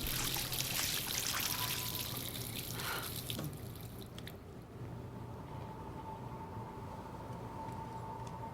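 Tap water running and splashing in the video game Life is Strange Remastered, a bright rushing pour for about four seconds that then cuts to a quieter background with a faint tone.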